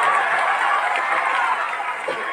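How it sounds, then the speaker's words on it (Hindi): Crowd at an outdoor dangal wrestling bout in Alanpur claps and cheers steadily, a dense continuous wash of applause with murmuring voices mixed in. "तालियों से स्वागत करिए मर्दों के नाम का"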